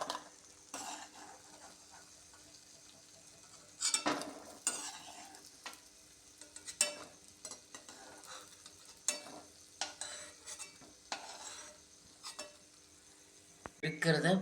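Wheat biscuits frying in oil and being turned over, a soft sizzle broken by repeated sharp scrapes and clinks of a utensil against the pan, with some quiet voice in the background.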